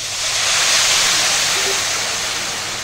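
Plain water poured over pasta in a home kitchen, a steady broadband rush and hiss that holds evenly for about three seconds, fairly loud and close, with no talk over it.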